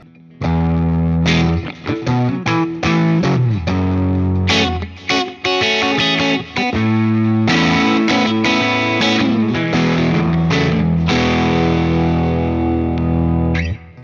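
A crunchy overdriven electric guitar through a Behringer Centaur overdrive pedal plays loud chords and riffs, some strummed hard and some allowed to ring, with no talking.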